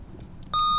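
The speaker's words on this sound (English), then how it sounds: "We'll have the players test their buzzer" A quiz-competition buzzer at a Science Bowl sounds a single loud, steady electronic beep that starts abruptly after a brief quiet moment and holds to the end.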